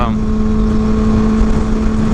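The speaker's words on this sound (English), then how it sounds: "The wind is still crazy though. I'm waiting for this wind to chill the hell out." Steady, heavy wind buffeting the microphone with a constant low roar and a droning hum throughout.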